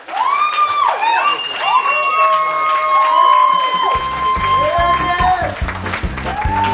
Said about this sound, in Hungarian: Ez zúgjon a tapsa fiataloknak.